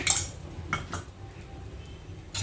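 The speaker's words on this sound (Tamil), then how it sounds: "மூடி போட்டு" A lid goes onto a pan where a ragi dosa cooks with a drizzle of groundnut oil. A few quiet metallic clinks and knocks sound close by over a faint background.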